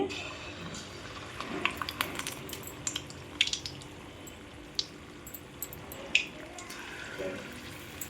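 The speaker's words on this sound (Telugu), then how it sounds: "తడుపుకున్న తర్వాత కొంచెం కొంచెం పిండి తీసుకుని ఇలా ఆయిల్లో వేసుకోవాలి" Spoonfuls of Mysore bonda batter drop into hot frying oil, producing a soft, steady sizzle with scattered sharp crackles and pops, plus an occasional clink of a utensil.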